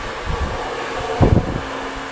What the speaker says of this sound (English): I always prefer to use the back side of the hair dryer.